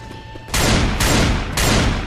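Three loud, evenly spaced gunshots in Left 4 Dead 2, each a sharp close blast with a ringing decay, after a brief quieter game ambience with no talking.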